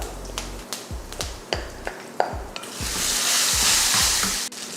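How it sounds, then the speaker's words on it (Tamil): Peanuts, curry leaves and asafoetida sauté in a pan: a steady sizzle swells over the second half, punctuated by regular sharp taps and scrapes of stirring. "வேர்க்கடலை சேர்த்தப்போ கொஞ்சம் பெருங்காயத்தூள் சேர்த்துட்டு வதக்கி விட்டுலாம்."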